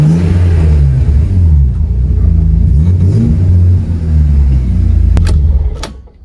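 BMW E36 engine revving hard on a dynamometer run, a loud sustained roar with rising and falling pitch sweeps, then easing off and fading at the end.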